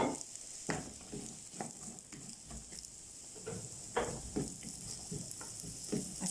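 Onions and garlic sizzle in hot oil in a pan for shawarma, a steady close crackle broken by repeated scraping stirs, with no talking.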